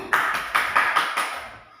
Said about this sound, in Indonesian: tepuk tangan untuk tadi